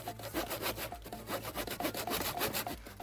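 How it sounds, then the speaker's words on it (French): A hand saw cuts through a tree trunk in a forest, with steady, rhythmic back-and-forth strokes rasping close and loud for the whole stretch. "Attention, il coupe un arbre."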